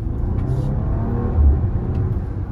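A Bentley Bentayga W12 SUV pulling away from a green light, its engine a steady deep whirring rumble that swells slightly partway through, heard close from inside the cabin.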